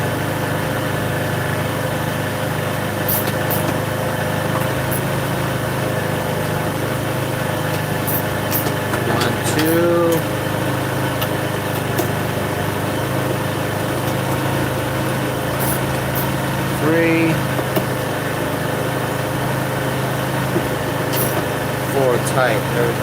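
A Chinese 125cc scooter engine idles steadily and evenly after warming up, a continuous close-up hum with faint vibration; a few small clicks and ticks sit over it.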